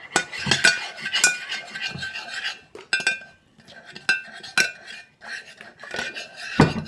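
Slime being mixed with contact solution in a bowl, with irregular clinks, scrapes and sticky squelches of a utensil against the bowl, close and moderately quiet, with no clear talk.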